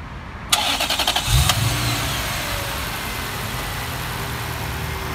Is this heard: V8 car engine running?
yes